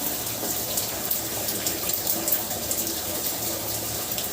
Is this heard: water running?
yes